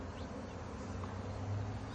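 Honey bees buzz steadily around an open hive during an April inspection, a dense, constant drone close by with no talk.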